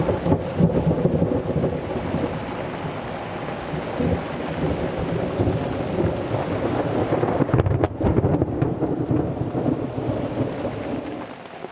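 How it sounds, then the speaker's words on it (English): Thunderstorm with heavy rain over a sailboat moored behind a breakwater in Panama, a dense steady downpour drumming on surfaces beneath long rolling rumbles of thunder, one swelling louder near the end, with no voices. "I definitely didn't escape the storms by coming up here."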